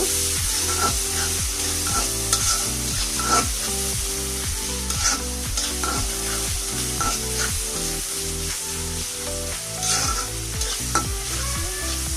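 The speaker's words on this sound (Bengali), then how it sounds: "এক কাপের মতো পেঁয়াজ কুচি আমি একটু ভেজে নিব" Chopped onion, about a cupful, fries in oil already used for frying fish, giving a steady close sizzle with regular scraping and knocking of a stirring spoon against the pan. No voices.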